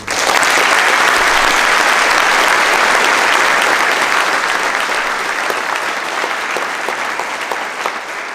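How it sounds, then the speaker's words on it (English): Loud, sustained applause from a school audience at a Veterans Day assembly honoring veterans, dense clapping filling the hall and tapering slightly toward the end. "let's give them a round of applause too"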